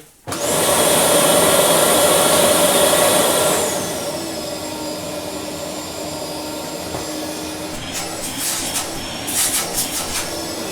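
A Samsung Cyclone vacuum cleaner on its lowest setting switches on with a loud high whine that drops to a lower, steadier hum after a few seconds, with a few faint clicks later.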